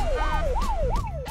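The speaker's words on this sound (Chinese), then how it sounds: "救护车可以开声音啊？" An ambulance siren in the zombie survival game Unturned wails in rapid rising and falling sweeps, about three cycles, loud and close over a low engine rumble.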